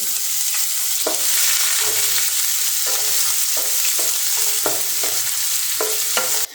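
Chopped onions stirred and frying in a pan, a steady loud sizzle with repeated scraping strokes of a spatula at an irregular rhythm, close up and without voices.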